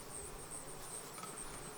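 Honey bees buzz during a Langstroth hive inspection, making a faint, steady, continuous drone that holds throughout with no talking.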